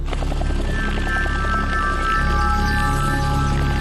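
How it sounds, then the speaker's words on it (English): Two blacked-out military helicopters carry troops on an urban assault operation, a loud continuous rotor and engine roar filling the whole stretch with no talk. "2 blacked-out helicopters take the new troopers on their first urban assault operation."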